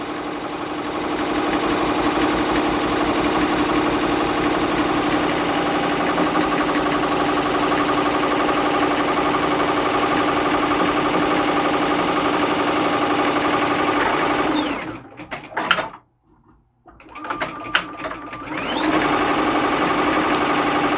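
A Juki Tajima Sai 8-needle embroidery machine stitches in a steady, fast mechanical whir with a rhythmic chatter, running loud and continuous before briefly cutting out near the end and then resuming.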